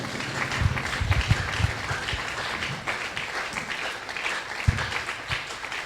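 A church congregation claps and cheers for the Lord, with dense, sustained applause and a few louder claps standing out.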